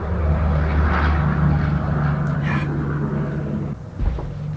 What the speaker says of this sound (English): There's all kinds of loud trucks going by today.